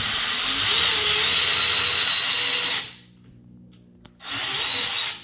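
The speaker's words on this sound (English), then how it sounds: "So we'll go ahead and take this Torx out." A power tool spins out a Torx screw on a Ford Bronco soft top assist install: a loud, steady whirring drive for nearly three seconds, a short quiet gap with a faint click, then a second burst of whirring.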